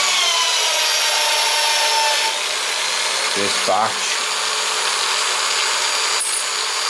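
Drill-driven case prep tool spinning 30-06 brass cases, a continuous high whirring rasp with brief clicks and scrapes as a case is handled, while a voice briefly speaks.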